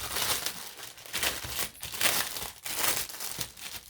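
Plastic packaging crinkles and tears continuously as embroidery hoops are unwrapped close up, a busy rustling texture with short pauses and no speech.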